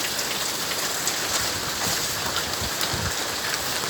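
Steady rain falls on a surface, a continuous dense patter with no voices, holding an even level throughout.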